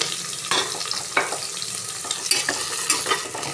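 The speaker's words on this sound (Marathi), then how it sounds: "चांगलं मोठ्या गॅसवर आपल्याला भाजायचं आहे" Onion with fresh green masala paste roasting in a pan over high gas for a green-masala dish, a steady close sizzle broken by several scraping stirs, with no voices.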